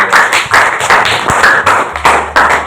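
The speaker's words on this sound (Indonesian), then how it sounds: "Bisa beri tepuk tangan untuk Jamala." Classmates in a university-run mathematics classroom clap in short, loud bursts that come in a fairly regular rhythm, close by, with no talk over them.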